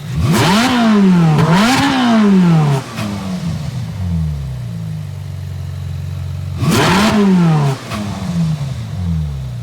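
A Ferrari 458 GT3 race car in the Gran Turismo video game revs hard through repeated rising gear pulls, dropping back to a steady drone between two loud acceleration bursts.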